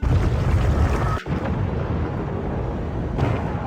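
A large explosion in the film Venom: The Last Dance, heard as a loud, sustained low rumbling roar that drops out sharply for a moment before the heavy rumble resumes.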